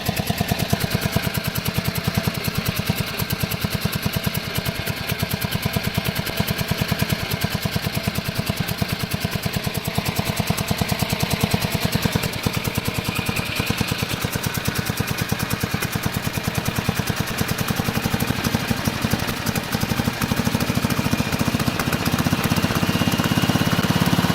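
A Wisconsin S8D engine on a 1969 Bolens 850 garden tractor with starting problems runs steadily and loudly up close, a continuous rapid mechanical chatter and clatter throughout with no break.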